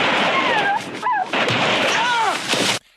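In a scene from the film First Blood, a couple of gunshots ring out as dogs yelp, loud and close, with the noise cutting off into sudden silence at the end.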